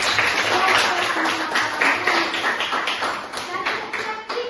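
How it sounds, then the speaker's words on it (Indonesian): A classroom group claps together after a student's math presentation, a dense, steady patter of hands throughout, with voices mixed in underneath. "Oke, tepuk tangan untuk"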